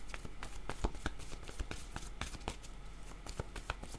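Tarot cards shuffled by hand at close range, a steady run of quick crisp riffles and slaps repeating for several seconds with no voices.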